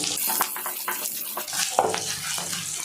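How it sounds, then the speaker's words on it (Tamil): Green chilli, curry leaves and crushed garlic frying in hot oil, a steady crackling sizzle with bursts of sputtering and popping, close and moderately loud with no talking. "இதெல்லாம் நல்லா ஆயிலில் பொரிய விட்டுருவோம்"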